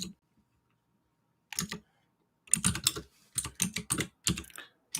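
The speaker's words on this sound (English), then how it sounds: "Can you guys hear my keyboard?" Bursts of typing on a computer keyboard, a short cluster of clicks followed by a longer run of rapid, close keystrokes in uneven rhythm, with no talking.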